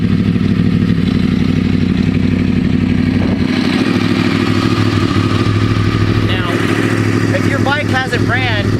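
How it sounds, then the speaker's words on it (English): A motorcycle engine, cold after sitting unused for a long while, starts and settles into a steady loud idle with harmonic throb throughout, and someone briefly talks over it near the end. "Now I'm able to start my motorcycle."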